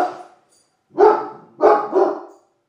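A dog barks three times close by, one short bark followed after a pause by two quick loud barks in succession.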